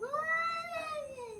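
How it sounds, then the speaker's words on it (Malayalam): A cat lets out one long, drawn-out meow that rises and falls, close and clear over faint room hiss. "എൻ്റെ ഇടയ്ക്കൊരു പൂച്ചയുണ്ട്, അതുകൊണ്ടിരിക്കുന്നുണ്ട്."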